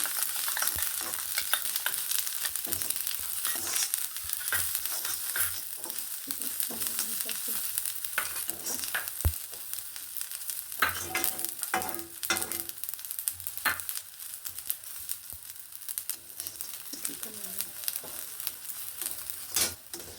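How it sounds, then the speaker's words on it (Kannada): Crushed garlic and dried red chillies frying in oil, giving a steady, close sizzle with scattered crackles and occasional stirring scrapes against the pan, with no talking. "ಬೆಳ್ಳುಳ್ಳಿ ಒಣಮೆಣ್ಸಿನ್ಕಾಯಿ ಒಂದು ಸ್ವಲ್ಪ ಫ್ರೈ ಆಗಲಿ"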